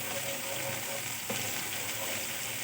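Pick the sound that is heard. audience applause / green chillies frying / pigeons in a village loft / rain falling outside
green chillies frying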